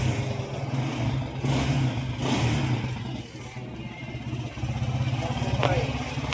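A Honda TMX 125 motorcycle engine, bored up to 200cc and fitted with an oil cooler, runs close by at a steady, throbbing idle with a few brief blips of revving throughout.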